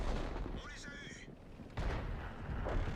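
Tank cannon fire in World of Tanks from the AMX 13 57 light tank: one heavy, booming shot lands mid-clip amid game engine rumble, loud and close, with a player talking over it.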